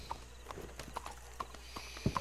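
A horse trotting in Red Dead Redemption 2, its hooves clip-clopping in a steady, even rhythm of distinct hoofbeats at close range, with a faint low hum underneath.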